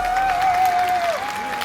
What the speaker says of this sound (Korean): 여러분, 호응이랑 박수가 좀 더 필요해요